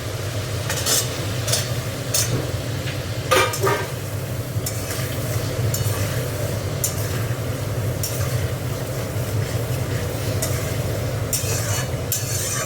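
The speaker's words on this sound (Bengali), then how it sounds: "পেঁপেটা দিয়ে একটু কষিয়ে দিই।" Papaya pieces sizzle and scrape as they are stirred in a hot pan of fish curry masala, a steady frying hiss under repeated spatula strokes and light clinks against the metal, with no voices.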